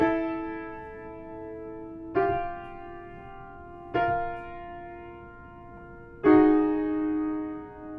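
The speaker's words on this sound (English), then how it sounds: "the sopranos and altos sound like this" Sustained choir voices in the upper range hold long chords, with three fresh entries swelling in and blending into rich harmony without words.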